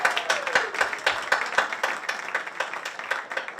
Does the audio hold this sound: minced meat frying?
no